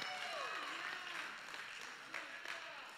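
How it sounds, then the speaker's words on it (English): A church congregation claps hands in praise during a worship service, a steady broadband patter that fills the whole moment, with a voice sliding through speech or song over the top and a few sharper claps near the end. "We clap our hands and we praise God."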